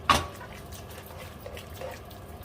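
Pasta cooking water is splashed into cacio e pepe as it is stirred off the heat, a single quick pour near the start followed by faint, soft liquid shuffling.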